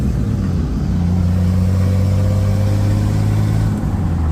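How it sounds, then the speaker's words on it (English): Jeep Wrangler YJ with an AX-15 manual transmission on a test drive, a loud steady engine drone and low rumble from inside the vehicle throughout. "The Jeep is on her maiden voyage."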